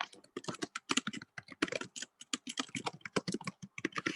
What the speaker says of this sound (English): Who's typing aggressively?